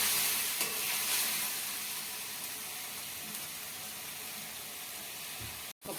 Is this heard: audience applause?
no